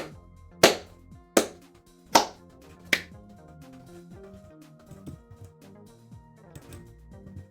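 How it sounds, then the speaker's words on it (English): A few sharp, spaced claps ring out as a slow, deliberate golf clap, four distinct hits followed by quieter scattered taps, with no talking. "Golf clap for that joke."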